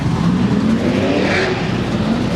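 Drift car with a roughly 440 cubic inch LS V8 roaring loud and close at a drift event, a sustained rough engine drone with rising revs and no speech over it.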